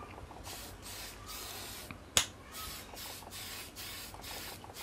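Aerosol spray paint on a 1/10 scale RC short course car body comes in several short, even hissing bursts separated by brief pauses, close and fairly quiet, with one sharp click midway.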